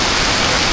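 Steady, dense rain falls in a rural area without electricity, a loud, even hiss with no breaks across the short moment.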